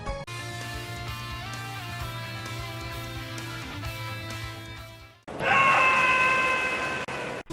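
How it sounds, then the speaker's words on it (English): Bowser's fading star KO scream in Super Smash Bros. 4 rings out loud, following a stretch of game music with a long held note. "you hear this satisfying scream to tell you he's gone now"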